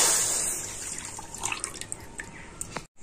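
Water that raw mangoes were boiled in poured from a bowl into a wok for mango jelly, a bright splashing stream that thins to a few drips before stopping, close, no speech.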